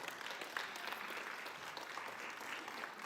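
A congregation or audience applauds during a talk on the goddess, a steady, fairly distant wash of many hands clapping at low volume with no break.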